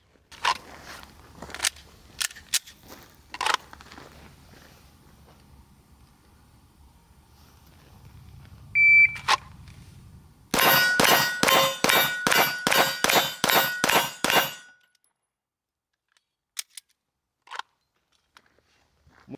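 Roughly ten sharp pistol shots ring out close by in a rapid, evenly spaced string at a shooting range, likely from a Canik pistol, after scattered metallic clinks and handling noises.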